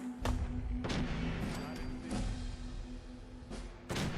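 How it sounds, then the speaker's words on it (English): Gunfire in the Fallout 4 video game: several sharp shots crack out at irregular intervals against a steady background hum, fairly close and loud, with a spoken voice mixed in. "Who's shooting at me?"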